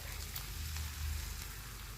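Freekeh sizzling in a pot just after a small cup of water is poured in, a faint, steady hiss with soft bubbling, alone.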